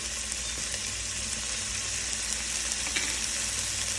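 Minced garlic and steak strips frying in a pan for steak fajitas, a loud, close, steady sizzle with crackling spits throughout and no talking.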